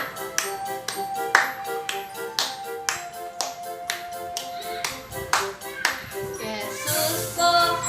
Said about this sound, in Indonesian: Tepuk tangan ya semuanya.